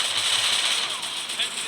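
Gunfire from the Free Fire mobile game crackles in short, rapid bursts, fairly close, over a constant game background hum.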